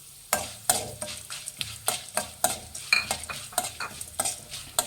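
Fenugreek seeds and cumin fry on a low flame for temple-style puliyogare, with a gentle sizzle under repeated rhythmic scrapes and taps of a spoon stirring the pan, close up and without speech.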